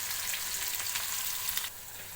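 Chopped onion and chili sizzle in hot oil in a pan for khichuri gravy, a steady close crackling hiss that drops to a quieter fry near the end.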